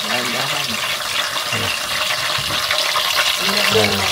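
Food going into hot cooking oil in a home kitchen in Japan gives a steady, loud broad sizzle with faint low voices and clatter beneath it.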